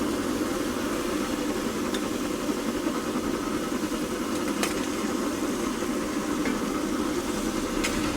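A cooking stove gives a loud, steady low rumbling roar, like an idling diesel train engine, droning continuously with a few faint clicks on top.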